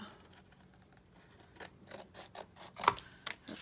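Scissors cut through index cards in a series of quiet snips and paper rustles that build toward the end, with a sharper click near the close and soft talk in the background.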